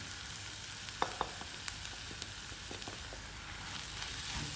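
Spice powders and onions fry in a clay pot for a pepper liver fry, a soft, steady sizzle with a few faint clicks of stirring and no talk.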